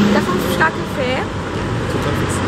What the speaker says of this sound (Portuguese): E aqui há imensos autocarros sempre a passar, malta.